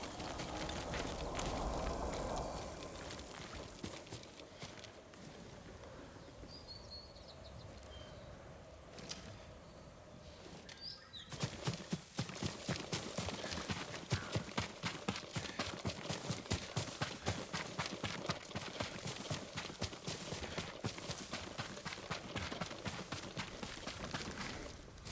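Horse hooves in Ghost of Tsushima, starting as faint scattered steps over ambient game sound, then turning into a fast, dense, louder run of hoofbeats about halfway through.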